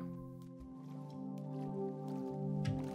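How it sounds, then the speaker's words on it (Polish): Soft, muffled squishing splashes as a character wades through water in Minecraft, quiet and brief under a low sustained hum with a few faint taps. "jestem, przechodzę teraz przez wodę"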